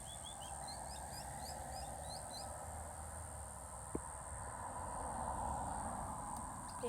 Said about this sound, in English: It's nice to hear all the birds.